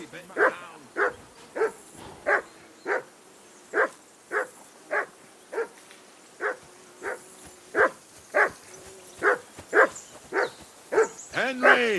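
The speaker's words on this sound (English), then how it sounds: "whistle at that mutt of yours to stop barking" A dog barking in the medieval game Kingdom Come: Deliverance II, a long series of regular, evenly spaced barks at close range, about one per half second.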